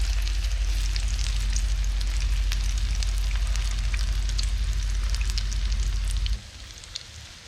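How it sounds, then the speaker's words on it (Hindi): Shami kebabs fry in light oil with a dense, steady crackling sizzle and frequent pops, loud and close, until a low hum cuts out near the end and the sizzle carries on alone. "तो बस हमने इसको फ्राई करना है जैसे आप लोग शामी कबाब को करते हैं"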